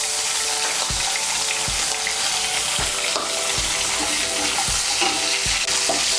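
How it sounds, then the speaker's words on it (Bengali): Chopped garlic tipped into hot oil for a Bengali chana dal tadka, giving a steady close frying sizzle with soft intermittent knocks and stirring sounds throughout. "আমি এর মধ্যে দিয়ে দিচ্ছি 1 বড় চামচ রসুন কুচি।"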